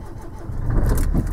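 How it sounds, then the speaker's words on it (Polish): An Opel Vivaro / Renault Trafic van engine starts up. A brief crank swells into a loud, close, low rumble within about a second, and no one talks over it. "Odpalę pojazd."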